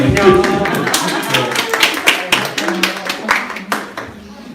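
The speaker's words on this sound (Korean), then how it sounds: "예, 박수를 예." A small church congregation claps along in brisk, uneven rhythm for several seconds during a Sunday service, with a voice briefly heard over the applause.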